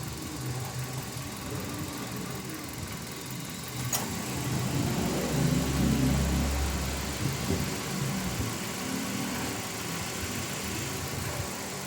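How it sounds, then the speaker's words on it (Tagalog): A Toyota Avanza engine idles steadily after a cold start, with a low, even rumble that stays moderately loud for the whole stretch. A brief sharp click breaks in once early on. "hayaan ko munang naka-idle yan para mag-open yung thermostat"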